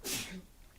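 A single sharp sneeze bursts out near the end, loud and close, after a stretch of faint hiss and low room noise.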